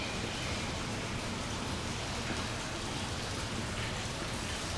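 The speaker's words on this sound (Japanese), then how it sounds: "この駅の構内には水が流れる音が響いています" Water runs and trickles continuously out of the tunnel side walls inside an underground JR Sobu Rapid Line station at Bakurocho, a steady broadband wash of flowing water echoing through the platform area with no voices.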